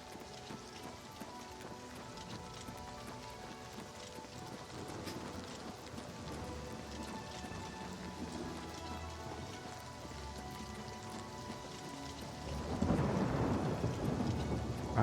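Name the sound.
rain with thunder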